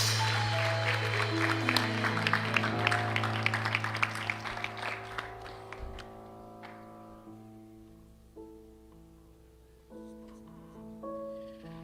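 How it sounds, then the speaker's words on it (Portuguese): A church congregation applauds steadily for several seconds during a service, the clapping fading as sustained music and a voice carry on beneath. "Aplauda o Senhor Jesus"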